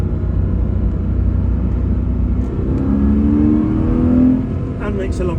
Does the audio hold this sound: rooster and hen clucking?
no